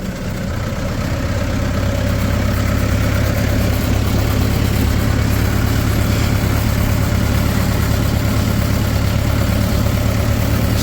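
A tractor engine runs as the tractor is driven, a loud, steady low diesel drone with constant rattling vibration and no pauses or voices.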